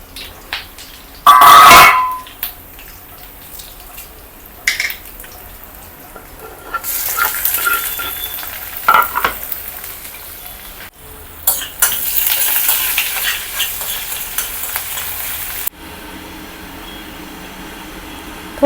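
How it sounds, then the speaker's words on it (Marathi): Curry leaves spluttering in hot oil on a stove for a dal tempering, loud bursts of sizzling and crackling with stirring and brief watery gushes, rising and falling in surges. "कढीपत्ता टाकते कढीपत्त्याचं खूप उडतं शेगडीवरती"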